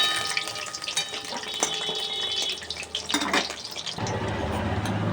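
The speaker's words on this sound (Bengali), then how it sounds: "এবার একটা একটা করে বড়া দিয়ে দেব। এইভাবে সব কটা আমি ভেজে তুলব।" Flower fritters (bora) frying in hot oil, dropped in one at a time, give a steady close sizzle with crackling bursts and a few clinks, easing to a lower bubbling hiss near the end; no one speaks.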